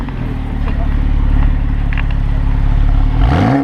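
Porsche 911 Carrera 4S engine running in sport mode, a loud close low throbbing drone that holds steady, then rises sharply in a rev at the end.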